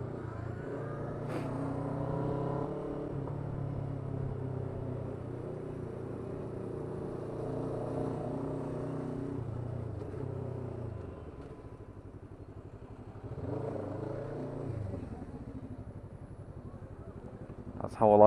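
Road traffic passes by, cars and motorcycles rumbling and revving in successive waves from near to far, with people talking over much of it.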